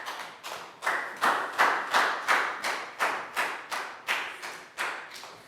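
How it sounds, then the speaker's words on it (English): A classroom of young pupils gives a round of applause in a steady rhythm, about a dozen evenly spaced, moderately loud claps following one another at a regular pace. "High five and a big round of applause for Lakgao."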